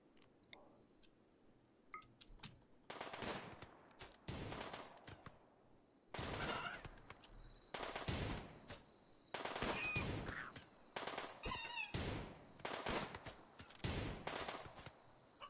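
Simulated gunfire from RimWorld as colonists shoot at manhunter chickens: sharp bursts of rapid shots crackle repeatedly, separated by short pauses and growing denser toward the end, with no talking.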